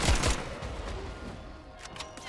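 Rapid bursts of gunfire crackle in a vampire video game, a loud close volley at the start that thins into scattered, fainter shots over a lingering noisy backdrop.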